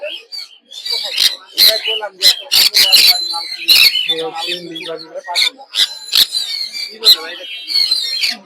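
Many birds at a bird market squawk and screech loudly and continuously, overlapping in a dense chorus with sharp shrill calls throughout.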